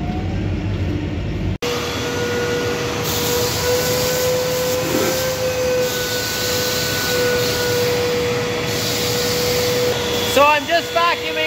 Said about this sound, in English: So I'm just vacuuming the red clover out of the grass seed box here